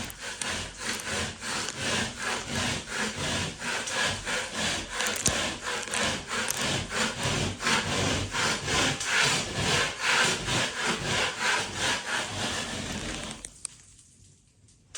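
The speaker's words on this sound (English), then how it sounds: "This is how not to scrape your popcorn off." Popcorn texture scraped off a ceiling with repeated rhythmic rasping strokes, loud and close, continuing steadily for several seconds before stopping abruptly.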